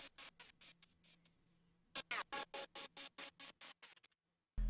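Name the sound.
Serum synth lead with Gross Beat effect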